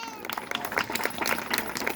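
Audience at a religious gathering breaking into applause, a steady patter of many hands clapping at moderate loudness that carries through the whole stretch.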